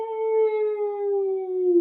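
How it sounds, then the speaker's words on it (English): A single long, menacing wolf howl, close and clear, holding a steady pitch and sliding slightly downward before cutting off, alone with no other sounds. "the long, menacing howl of a wolf."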